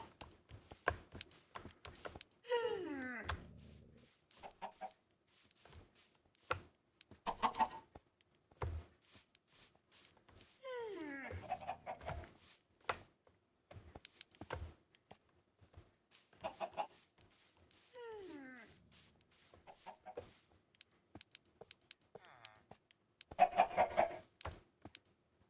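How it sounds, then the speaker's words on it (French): Chickens cluck repeatedly in the video game Minecraft, with short bursts of clucking recurring every few seconds among clicks and game sounds, fairly quiet throughout. "Deuxième poulet, parfait."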